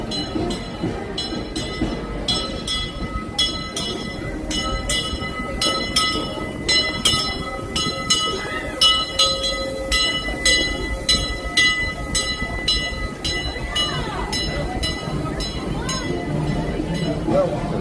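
A Disneyland Resort train pulls in, its loud steady rumble and rhythmic clacking carrying on throughout, along with repeated metallic bell-like dings and squeals and scattered crowd voices.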